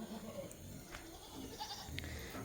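Goats bleat on a family farm at milking time, several short calls rising from a busy, noisy barnyard background with no talk over them.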